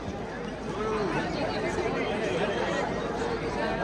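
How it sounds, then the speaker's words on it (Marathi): Dense crowd hubbub outside a cricket stadium on the day of a T20 World Cup match, a steady wall of overlapping voices and chatter at close range, with no single voice standing out. "गर्दीचं फुल आहे."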